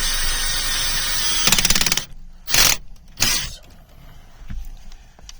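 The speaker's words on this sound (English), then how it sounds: "so I guess I'll have to pause it while I drill the holes in." Short bursts of a power drill whirring as it drills holes for a rear stress bar on a Mk4 GTI, two or three quick pulses with pauses between, close by and loud.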